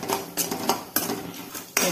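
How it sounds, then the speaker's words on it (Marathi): Grated coconut roasting in a pan for stuffed karela, with a spoon stirring and scraping against the metal in sharp, repeated clinks over a faint sizzle, close and fairly loud. "थोडस खोबर आपण हलक लाल भिजवूया"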